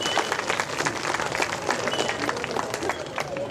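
Audience applause rises at a devotional gathering in Penuballi, a dense, steady patter of many hands clapping throughout, with voices mixed into the crowd noise.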